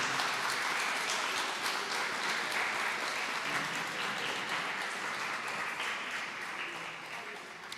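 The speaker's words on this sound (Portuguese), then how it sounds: "Vamos aplaudir a Jesus." A church congregation applauding in worship, a dense, fairly distant wash of clapping that holds steady and slowly fades toward the end.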